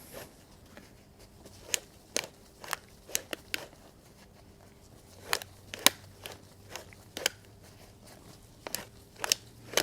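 A cutter working through the steel shell of an ACDelco PF52 Ultra Guard oil filter, giving close, sharp crunching snips in an irregular series over a low background hum, with no talk.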